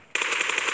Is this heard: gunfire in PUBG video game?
yes